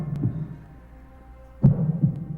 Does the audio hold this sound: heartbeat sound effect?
yes